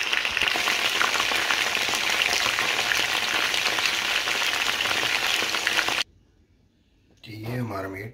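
Beef fries in a pan over medium-low heat, a dense, steady sizzle that runs loud for about six seconds and then stops abruptly. A person's voice follows the sizzle.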